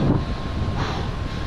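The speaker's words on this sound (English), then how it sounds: "the wind just got me" A strong headwind during an outdoor run buffets the microphone with a steady, loud, rough roar for a second and a half, with no other sounds clearly heard.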